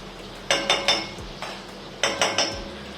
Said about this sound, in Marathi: आता यांना छान असं परतून घ्यायचं आपल्याला